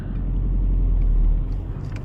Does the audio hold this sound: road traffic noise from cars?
yes